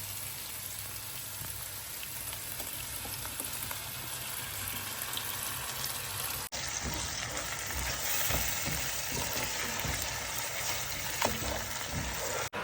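Spice paste for chicken mandhi sizzles and fries in a pan while being stirred, a continuous crackling hiss with scraping stirs, close and even throughout with no talking.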